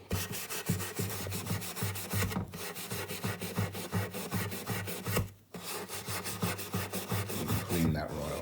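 Wire wool rubs steadily back and forth over corroded guitar frets, a continuous close scratchy scrubbing with a brief pause midway and no talk.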